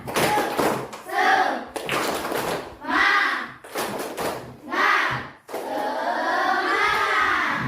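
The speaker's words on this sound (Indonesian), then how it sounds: "Tepuk semangat." A class performs a rhythmic 'tepuk semangat' clap chant, with children's voices chanting in short bursts between sharp clusters of claps and thumps, close and moderately loud.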